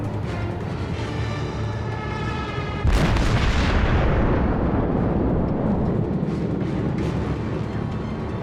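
Naval guns in the video game World of Warships fire a heavy booming salvo that rolls into a long rumbling decay, following a quieter stretch of engine drone and ambient noise.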